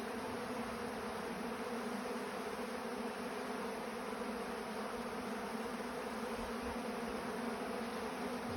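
Honey bees buzz around their hives in a steady, even drone. The hum is faint and unbroken, and no voices are heard.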